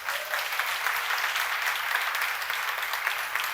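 A congregation at a church seminar claps together, a dense, even burst of applause that stays steady for a few seconds with no voices over it.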